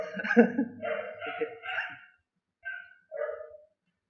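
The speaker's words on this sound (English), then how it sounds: "Some dogs are objecting." Dogs bark outdoors at a moderate distance, a burst of several overlapping barks followed by two shorter, fainter barks after a pause.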